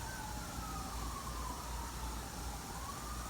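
A distant siren wails, its pitch slowly sweeping down and rising again over a steady city hum.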